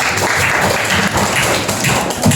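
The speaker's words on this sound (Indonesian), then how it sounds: "Oh betul, tepuk tangan dulu." An audience at an anti-corruption outreach session claps together, a loud, close, continuous burst of many hands with no pause.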